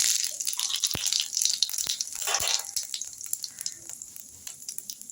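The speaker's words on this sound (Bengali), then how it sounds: "5 ফোড়ন দিলাম" Panch phoron five-spice tempering in hot oil for a vegetarian bottle gourd curry with mustard: a bright, crackling sizzle with several sharp pops that gradually calms and thins out.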